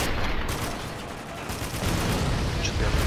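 Gunfire in the shooter game Spec Ops: The Line comes as a dense, continuous burst of rapid shots that stays loud throughout, with a voice talking over it.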